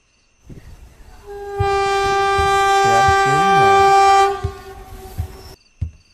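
A train in a horror story sounds a long, loud, sustained horn blast that swells in and holds for a few seconds, with rumbling rail noise before and after and a brief sharp clank near the end.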